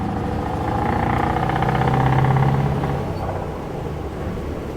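A Scania semi truck hauling an American trailer rumbles loudly and close, its diesel engine swelling under load through a gear change and then easing off.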